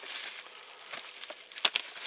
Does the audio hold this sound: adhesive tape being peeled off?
yes